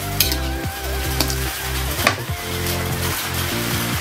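Shrimp and squid stir-fry with holy basil sizzles steadily in a pan, accompanied by a low mechanical hum and a few sharp clicks from the spatula, with no one speaking.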